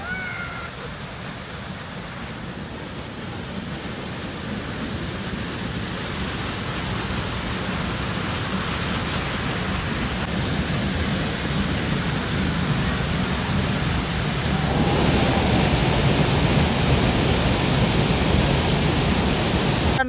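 Water flows continuously at the source of the Bhima river in the monsoon jungle near Bhimashankar, a steady broadband rush that grows slightly louder partway through, with no voices.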